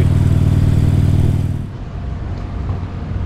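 Harley-Davidson motorcycle riding along Highway 3A, a loud steady engine drone with wind rush, then dropping to a lower rumble as it slows.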